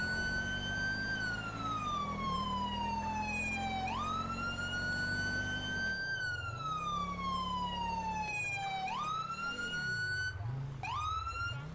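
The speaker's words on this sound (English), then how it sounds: "I'm going to activate lights and sirens here." A police siren in GTA V with the LSPDFR mod wails continuously, sweeping up and down in long cycles, then switches to a faster yelp pattern near the end; loud and close, with an engine rumbling underneath.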